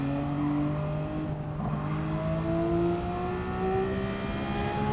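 Racing car engine in Gran Turismo 7, revving steadily with rising and falling pitch across the whole stretch, loud and close, with a faint hint of tire noise and no talk.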